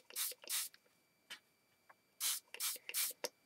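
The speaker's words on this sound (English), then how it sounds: "you spray in between all of the layers" Several short hissing bursts from a spray bottle wetting the layers of a necklace, in two clusters with a brief pause between, close and fairly quiet.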